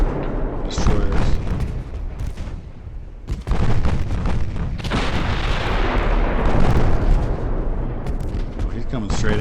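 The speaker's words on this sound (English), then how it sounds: "let's get the secondary fire on these destroyers" Warship secondary guns fire on destroyers in the naval battle game Ultimate Admiral: Dreadnoughts, a dense run of loud booming blasts and rumbling gunfire that carries on throughout.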